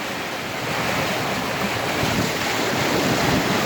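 Floodwater rushes through city streets, buildings and drainage, a continuous loud roaring wash with wind buffeting the microphone and no talk.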